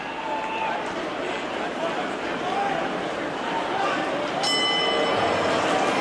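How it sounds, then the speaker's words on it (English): A bell rings out to end a round in an MMA bout between Steve McKinnon and Nato Laauli, its ringing tones rising late in the clip above a loud arena crowd and commentary. "Bell sounds, they tap him up,"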